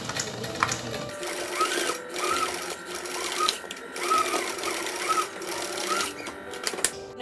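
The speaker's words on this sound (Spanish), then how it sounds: "pasamos la costura" Sewing machine stitching a seam on handmade ballet socks, a steady mechanical whir running in repeated bursts for several seconds, close and clear, with brief pauses between runs.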